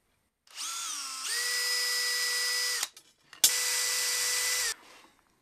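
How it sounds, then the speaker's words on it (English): A power drill bores into the side of a throttle or brake cable end, its motor whining steadily at high pitch in two runs split by a brief stop, close and loud with no speech. "Now we need a drill bit about the same size as the cable."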